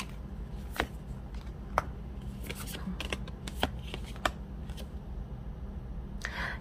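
Tarot cards riffle and slap in a series of crisp, irregular shuffling bursts close by, over a low steady background hum, with no one speaking.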